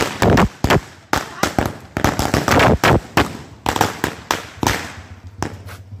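A rapid string of Deepawali firecrackers bangs loudly and irregularly on a road, sharp cracks crowding together, with brief gaps and a low hum near the end.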